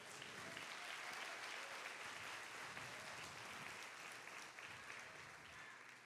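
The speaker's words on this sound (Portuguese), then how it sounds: "Dê um aplauso ao Senhor." A church congregation breaks into broad, continuous applause, a dense wash of clapping heard at some distance and fairly faint throughout.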